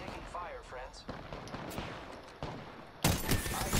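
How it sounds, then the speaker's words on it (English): Video game gunfire, bursts of rapid shots and a louder fusillade near the end, mixed with a voice talking over the action. "I am taking fire, friends."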